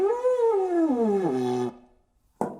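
A euphonium played with its valve tubing slide removed gives a short, hollow, wavering tone that sags in pitch before breaking off, followed by a brief burst of air.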